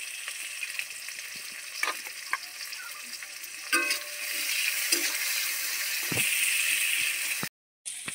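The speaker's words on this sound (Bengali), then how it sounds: "পেঁয়াজগুলোকে খুব লাল লাল করে ভাজেনি, হালকা ভেজে" Chopped onions frying in oil with five-spice, a steady close sizzle and crackle under occasional spatula scrapes, growing slightly louder midway before a brief cut to silence.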